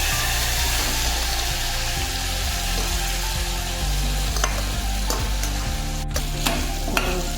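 Okra hits hot oil already seasoned with cumin, garlic, curry leaves and turmeric, giving a loud, steady sizzle and fry with a few sharp crackles and spatters, close and continuous with no talking.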